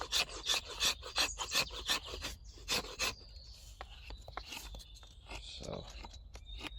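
A Bark River JX5 knife shaves curls from a piece of wood in a rapid series of close, rasping scrapes, strokes slowing and becoming more scattered, with someone speaking softly near the end.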